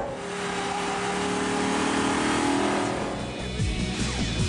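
An Ascari KZ1 supercar power slides through a corner with no traction control, its engine roaring loud and sustained, then tires scrubbing and the note dropping as it exits.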